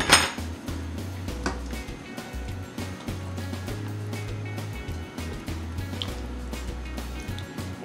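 Clinks and taps ring out as a fork pokes holes in a softened prepared pie crust in a deep dish shell, a steady string of small metallic knocks over a low background hum.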